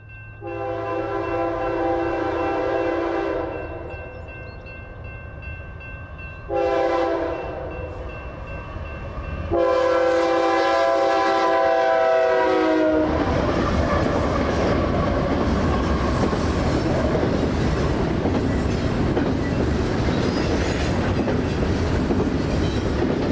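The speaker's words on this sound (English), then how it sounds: "The first one was an intermodal led by an engine with a K5H horn." A loud K5H locomotive horn blasts in several long, sustained calls, then an intermodal freight train rumbles and clatters past close by, filling the air with steady roaring noise.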